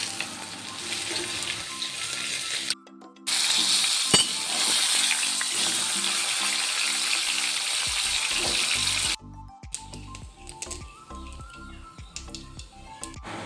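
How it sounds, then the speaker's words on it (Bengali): Rui fish pieces fry in hot oil with a dense, loud sizzling hiss that cuts out briefly and returns, then drops to a quieter crackle near the end, with background music underneath and no talking. "মাছগুলোকে একটু কড়া করেই ভাজতে হবে বন্ধুরা"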